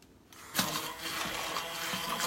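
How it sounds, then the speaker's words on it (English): An immersion blender whirs steadily through diced tomatoes as they are puréed into a sauce for Instant Pot butter chicken, starting abruptly after a brief quiet moment and running close and continuous. "So I'm going to take my immersion blender and just kind of, all right, here we go again."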